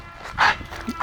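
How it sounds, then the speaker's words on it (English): Lucy, a pit bull out on a walk, lets out two quick, sharp barks close by, the second cut off at the end, with little else around them. "it's almost becoming a habit for her to bark"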